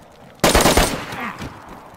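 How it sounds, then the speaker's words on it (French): A sudden burst of rapid gunfire erupts in the survival video game DayZ, a loud close volley of several quick shots followed by a fading echoing tail. "C'est moi qui tire, hein."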